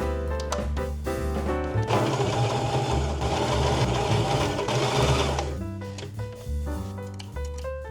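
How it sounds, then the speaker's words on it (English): A sewing machine stitches fabric in short bursts, then runs in a longer loud whirring stretch before stopping and starting again in brief runs, heard close up. "it did actually sew it up some more"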